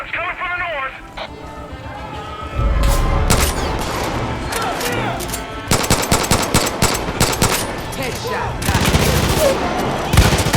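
Gunfire in Far Cry 5: bursts of automatic shots and sharp single cracks, loud and close, coming in clusters with short gaps, while a voice speaks over the shooting.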